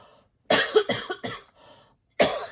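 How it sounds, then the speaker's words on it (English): A series of several sharp coughs, close and fairly loud, with brief pauses between them, then one more cough after a short gap. "Excuse me, I'm going to cough."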